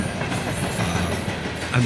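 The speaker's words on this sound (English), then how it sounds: "A loaded coal train is not something that is seen very frequently here." Loaded coal train passing close by: a steady, loud rumble and rattle of freight cars rolling past, with faint metallic squeal and clatter throughout.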